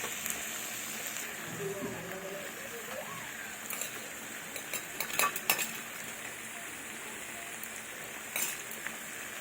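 Ground dried chilli, coriander, cumin and ginger paste stir-fried with spinach stems and fish roe in a pan, with soft scraping spoon clinks over a low frying hiss, a voice talking over it.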